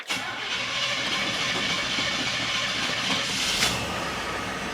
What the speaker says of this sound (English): Let's see if I got everything back right here.